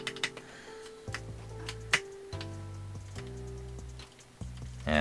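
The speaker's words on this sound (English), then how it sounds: "Yeah, I got ticking on this stabilizer." Key presses on a RoyalAxe L98 1800-layout mechanical keyboard with a rubber gasket, sparse clicky taps where a stabilized key gives a sharp ticking rattle, heard close and alone over faint background tones.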